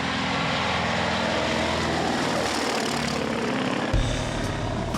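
A Junkers Ju-52 propeller airliner, in service since 1936, drones steadily with a loud, continuous engine roar and no voices over it.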